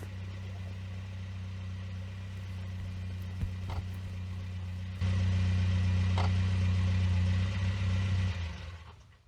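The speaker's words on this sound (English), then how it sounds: "There is car making noise." A car engine runs with a steady low hum. A couple of faint clicks break it early on, then the drone grows noticeably louder and heavier midway, holds, and fades out at the end, with no voices.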